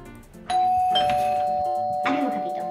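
A doorbell rings with a sustained electronic chime tone, starting half a second in and ringing on, with a second strike near the end, inside a home where children and adults talk around it.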